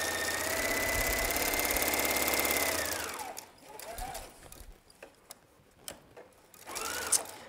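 A home sewing machine stitching a yoke seam with a regular short stitch, a loud steady close whir for about three seconds that stops, followed by quiet handling clicks and fabric rustles.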